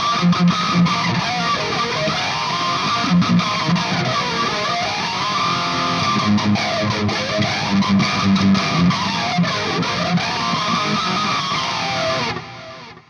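Distorted electric guitar played steadily through a Fender Tone Master Pro into an amp cabinet, chords ringing with a modulated, effects-laden tone, then cutting off at the end.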